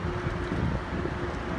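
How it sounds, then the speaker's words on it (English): Wind buffets the microphone outdoors in San Antonio, Texas, a steady low rumbling roar filling the short stretch without any talk. "Might be a little windy"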